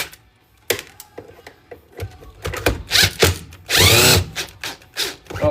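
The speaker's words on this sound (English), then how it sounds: "Uh-oh, I think my drill is dead." A cordless drill whirs in short bursts and stops, with one longer sustained run near the end, loud and close, its battery running dead.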